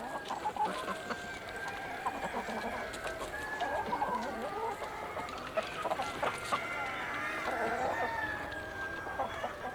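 Korean black Ogye chickens roaming free in a village, clucking continuously with a drawn-out crowing call, near and busy over outdoor background noise.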